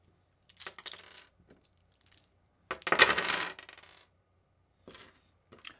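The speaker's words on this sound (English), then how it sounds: "the Dungeon Master now rolls 8d6 or 8 six-sided dice, and adds the total" Eight six-sided dice rolled by a tabletop Dungeons & Dragons game master: scattered clicks and clatters, a short burst, then a louder main tumble of dice rattling together, followed by a few faint final taps.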